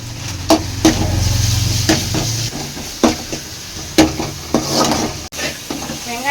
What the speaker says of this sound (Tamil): வெங்காயம் வதங்கிடுச்சா? நல்லா ப்ரௌனிஷாக வதங்கிடுச்சு.